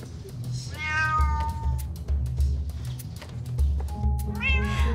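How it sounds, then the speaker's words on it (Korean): Cats meow in a series of drawn-out, wavering cries, some overlapping, over a low rhythmic hum that pulses steadily in the background. "왜 이렇게 고양이가 많아?"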